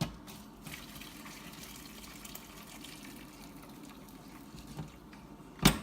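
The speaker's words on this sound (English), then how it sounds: "we're going to strain it through this fine strainer so I'll get the fish stock I need" Fish stock being poured through a fine strainer in a home kitchen while making shrimp perlo, a soft steady trickle of liquid that runs quietly for several seconds and ends with a brief clatter.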